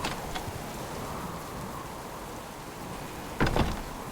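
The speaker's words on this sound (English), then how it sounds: "Raining again, I notice." Steady rainfall in the survival game Subsistence, an even soft wash of rain with a couple of faint sharp ticks early on and a brief louder knock or thud near the end, no voices.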